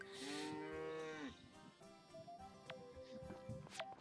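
Cattle in the Story of Seasons: Friends of Mineral Town farming game low repeatedly, a long drawn-out moo followed by shorter cries, with game chimes and effects over a steady background.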